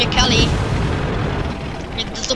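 Tank guns fire in a video game, a loud blast at the start followed by a rumbling, noisy battle din and further crackling bursts near the end.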